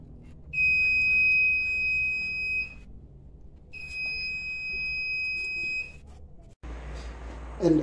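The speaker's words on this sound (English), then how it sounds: "here is a smoke detector that detects smoke and then trigger on the buzzer" A smoke detector buzzer sounds in two long, shrill, steady tones separated by a pause, then cuts off abruptly into rustling noise.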